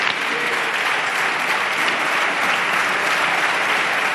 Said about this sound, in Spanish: Pedro Sánchez, que recibe ahora el aplauso del Grupo Parlamentario Socialista